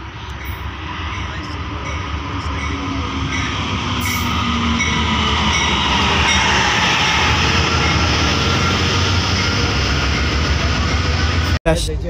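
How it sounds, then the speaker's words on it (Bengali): A train pulls into an old-style railway station, a loud, steady rumble of wheels and engine that builds and holds throughout with a sharp clank near the end; a voice speaks briefly under it. "ট্রেন আসতেছে, ওই যে দেখতেছেন ওটা"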